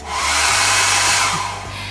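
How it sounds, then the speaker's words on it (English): A small travel hair dryer running on solar power in a camper van blows with a steady, loud airy whoosh and a low motor hum, running continuously throughout. "this hairdryer is a travelling hairdryer and it doesn't take too much of my energy"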